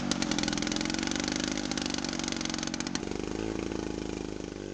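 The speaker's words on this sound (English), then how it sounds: "it does take a little bit of extra juice to cut through the stump of the tree" A Supmix 6250 chainsaw bites into a dead tree stump, its engine snarling loud and close at high revs with a rapid pulsing buzz, then dropping to a slightly lower pitch partway through the cut.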